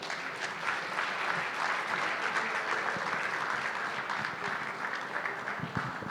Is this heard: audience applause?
yes